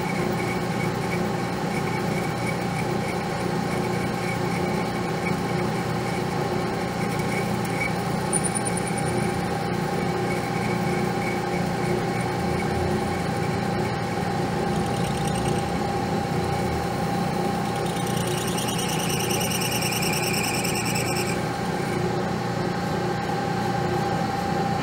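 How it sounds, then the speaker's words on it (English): A milling machine runs steadily as it cleans up an AR part held in a vise, giving a constant mechanical hum with a few faint high whines from the cutter. "I took the part over to the mill vise, just straightened it, got a little bit of a wow in it, but it's back normal. So I'm just going back in and cleaning up on it."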